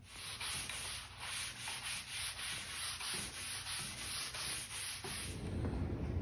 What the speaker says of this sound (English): I'm just gonna lather this stuff on.